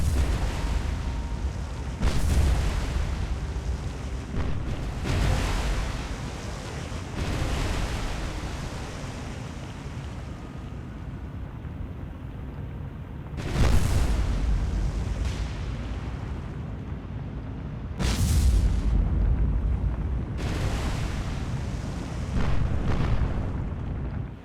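Ships are hit in a naval battle in the game War on the Sea, with several heavy booming explosions bursting out of a constant roaring rumble, loud and close, spaced a few seconds apart.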